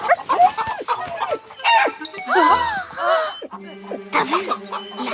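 A hen in the Petz Club video game clucks and squawks in short bursts, with brief excited vocal calls and a steady tone near the end, mixed with speech-like voices.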